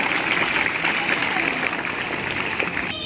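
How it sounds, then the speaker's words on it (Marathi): A school audience at an Independence Day function claps for a little girl performer, giving a dense, steady round of applause from many hands throughout. "या चिमुकलीसाठी जोरदार टाळ्या होऊन जाऊ द्या"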